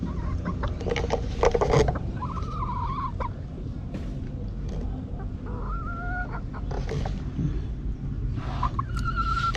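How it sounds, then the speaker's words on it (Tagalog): Chickens clucking nearby on a farm in Claveria, Misamis Oriental, in a steady barnyard chorus, with several higher calls rising over the background noise. "Mga manok."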